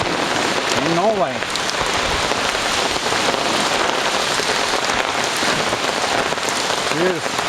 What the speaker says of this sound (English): rainy day in Norway.